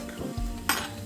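Fork stirring an egg in a cup in a home kitchen while making ham, onions and egg with potatoes, a short close scraping swirl with a brighter clink near the end, no talking.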